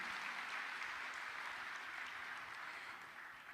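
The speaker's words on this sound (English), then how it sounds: "Let's give a round of applause, ladies and gentlemen." Audience applause at a G20 Digital Innovation Network event in 2022, a steady wash of many hands clapping at moderate distance, fading slightly toward the end before a sudden sharp rise.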